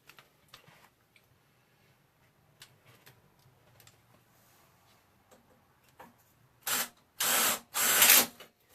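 Self-tapping screws driven into aluminum: after quiet faint ticking, three loud, close bursts of harsh power-driver whirring follow in quick succession, each lasting under a second with short gaps between.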